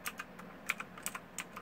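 Keystrokes on a Redragon K55 computer keyboard, a string of sharp, separate clicks at an uneven typing pace, close and fairly quiet with no talk.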